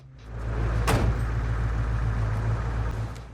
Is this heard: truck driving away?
yes